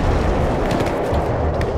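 Cannon fire from the stealth game Shadow Tactics, a continuous heavy rumbling roar of booms and blasts, loud and dense, with faint sharper cracks layered over the low thunder.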